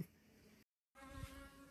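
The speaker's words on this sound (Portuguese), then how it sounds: "Aí vai pra lá, abelha, em nome de Jesus" A bee buzzes with a steady faint drone, broken by a brief silent gap before the buzzing resumes slightly stronger.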